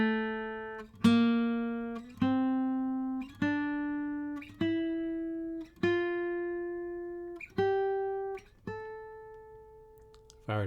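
Clean guitar notes plucked one at a time, climbing step by step from A up the third string in sixths, about eight separate ringing tones, each decaying before the next, close and clear with no talking.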